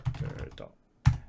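Someone types on a computer keyboard close by: a quick cluster of clicking keystrokes, a short pause, then one louder, heavier key press.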